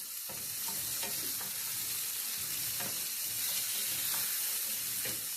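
Broccoli and onion stir-fry in a pan, a steady loud sizzle broken by repeated scraping stirs of the spatula at a regular pace, with no talking.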